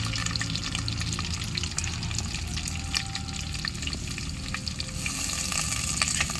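Curry leaves fry in hot oil on a wood-fired stove while a meat curry is cooked, giving a loud, continuous sizzle and crackle that intensifies toward the end.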